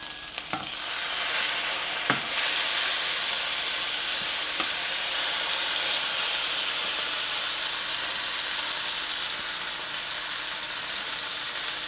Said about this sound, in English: We're just gonna sear around the edges for about a minute or 30 seconds or so.